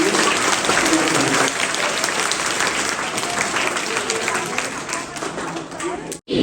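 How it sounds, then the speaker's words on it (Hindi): Sustained applause from a large audience at a school talk, steady dense clapping for several seconds before it abruptly cuts off near the end. "तो एक बार जोरदार तालियों से उनका हम अभिनंदन करेंगे।"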